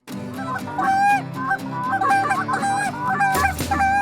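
A flock of geese honks continuously and loudly over a big river, many overlapping calls blending into a steady, clamorous chorus with no talking.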